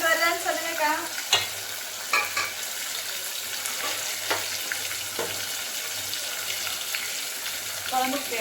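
A wooden spoon stirs food frying in a pan, a steady close sizzle with a few soft scraping knocks against the pan running through it, with no talk over it.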